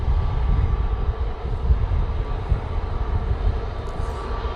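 An aircraft at Manchester Airport gives a continuous low rumbling engine roar, steady and fairly loud, with no speech over it.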